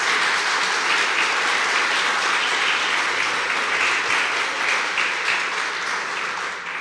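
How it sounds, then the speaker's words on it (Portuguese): Loud, sustained applause from a church congregation fills the space continuously, a thick wash of many hands clapping with no pause throughout. "Uma salva de palmas para Jesus."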